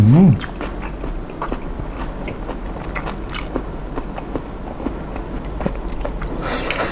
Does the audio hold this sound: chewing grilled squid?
yes